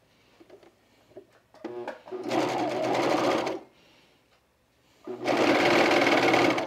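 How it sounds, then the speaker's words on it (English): Two bursts of sewing machine stitching along the inseam of pajama bottoms, each lasting a second or more, loud and close with a brief handling pause between them. "So we're gonna sew this inseam here."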